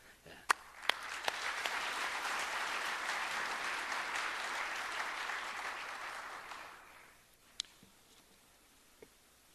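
A church audience at a Korean pastors' conference gives a sustained round of clapping lasting several seconds that fades out, with a few sharp isolated claps and faint sounds around it.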